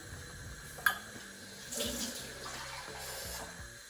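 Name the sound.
water being poured into a pot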